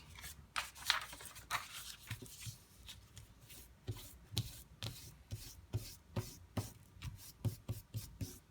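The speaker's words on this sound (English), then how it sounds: "See, this isn't my kneaded rubber eraser, so I got eraser shavings all over the place." A rubber eraser scrubs out pencil lines on paper during a drawing session, making a steady series of quick, close rasping strokes in an irregular back-and-forth rhythm, with no talking.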